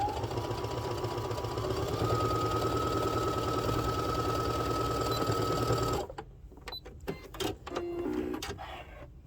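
A sewing machine runs a long steady whirring stitch through a fluffy fabric spa headband, then stops, followed by a few clicks and fabric handling noises near the microphone.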